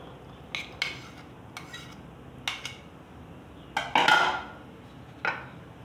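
Boiled chickpeas go into a bowl and get mixed with a spoon, giving a few sharp clinks and scrapes against the dish, spaced irregularly, fairly close and quiet with no talking.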